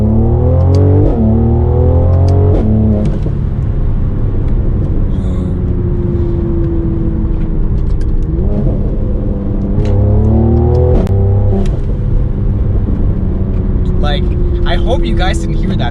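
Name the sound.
Mercedes-AMG C43 upshifting under boost, exhaust pops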